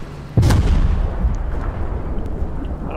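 Heavy tank cannon fire in a video game: one loud, close boom kicks off after a brief quiet lead-in, then a long rumbling decay tails away beneath it.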